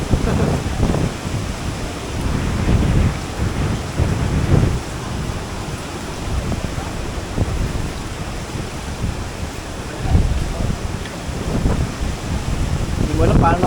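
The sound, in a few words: strong wind by the sea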